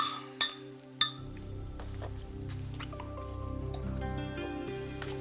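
Two sharp glass clinks in quick succession as drinks touch in a toast in a soap opera scene, followed by a steady low murmur of background music.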